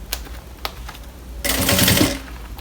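A sewing machine stitching a small handbag, starting with a few isolated needle clicks, then breaking into a fast, loud whirring run of stitches close by.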